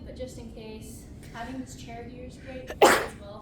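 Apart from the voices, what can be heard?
sneeze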